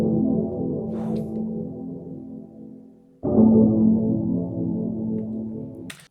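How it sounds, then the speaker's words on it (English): A sustained sample drenched in Hyper Chorus in FL Studio plays as a thick, shimmering tonal bed, dropping briefly before resuming louder, with no voices. "Let's go ahead and load up Hyper Chorus."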